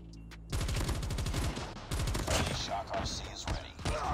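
Rapid gunfire rattles in the mobile shooter Call of Duty Mobile as quick bursts of close, loud shots come in repeated volleys with short gaps between them.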